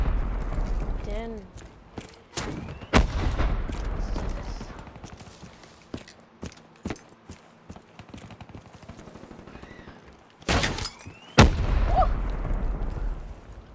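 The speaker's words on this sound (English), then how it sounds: "let's see the shooting" Gunfire in Call of Duty: Black Ops III, with sharp shots and short automatic bursts separated by quieter stretches, including a couple of very loud blasts late on, with a voice talking over parts of it.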